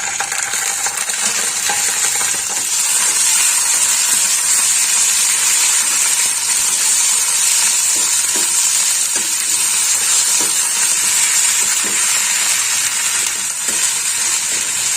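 Ginger-garlic paste frying with browned onions in hot oil for an egg curry, a loud continuous sizzle with occasional scrape-like ticks from stirring, no voices.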